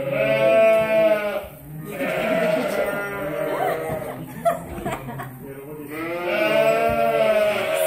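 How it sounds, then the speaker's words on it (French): A large flock of ewes bleating on a farm, several overlapping wavering cries in bursts, fairly close and loud, with brief human chuckling mixed in. "J'ai jamais vu autant de brebis d'un seul coup."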